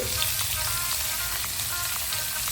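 Fennel seeds sizzle in hot oil in a pan while cooking beef perattu, giving a steady, dense frying hiss with faint crackles, close and uninterrupted.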